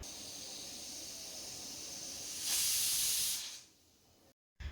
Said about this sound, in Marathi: कुकरच्या 3-4 शिट्या काढून घ्यायच्या आहेत.